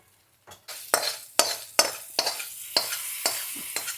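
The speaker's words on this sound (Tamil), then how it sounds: "தேங்காய் எண்ணெயில் தாளிக்கணும்." Dal is tempered in sizzling coconut oil in a pan and stirred with a utensil: about eight sharp scraping strokes spaced roughly half a second apart over a continuous hiss of frying, close up, with no talking.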